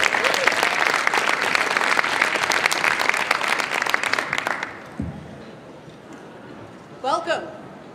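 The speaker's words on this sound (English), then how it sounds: "Let's have a nice round of applause for Holly Walter Kirby." Audience applause at a live science demo session, dense and loud for about five seconds before stopping abruptly, followed by quiet room sound and a brief voice.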